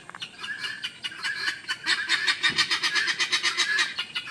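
A laying hen clucks in a repeated, rhythmic series of calls that grow denser and louder midway, close to the listener with no talking.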